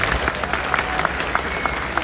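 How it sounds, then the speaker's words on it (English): Applause from an audience at an interview event at an Islamic institution in Canada, a short burst of fairly steady clapping with some louder claps standing out. "Round of applause for our mothers who they work so hard for us."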